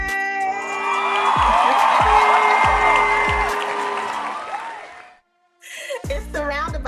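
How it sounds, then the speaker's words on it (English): A studio audience claps in a roundabout clap for a special guest, a loud, dense burst of applause that swells and fades before a brief silence and then a voice talking. "It's the roundabout clap."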